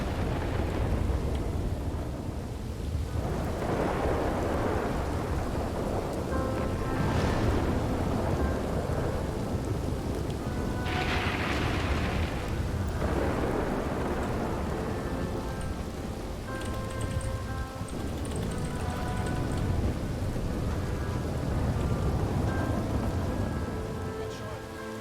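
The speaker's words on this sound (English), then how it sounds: "This storm's too loud." A loud thunderstorm in the game RedM, with heavy steady rain and rolling rumbles of thunder filling the whole stretch, close and constant.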